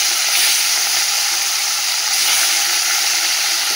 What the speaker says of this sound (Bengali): তেল তো গরম হয়ে গেছে, আর এই মাছটা দিয়ে দিই